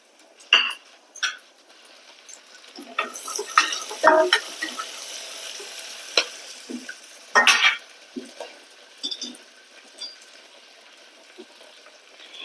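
Green peas go into a pan of onions fried until pink, giving a soft sizzle with clinks and scrapes of a spoon against the pan. Some louder stirring bursts stand out over a low, steady frying hiss, with no speech.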